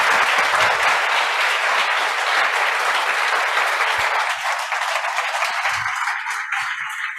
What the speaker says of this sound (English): please give all of the team a round of applause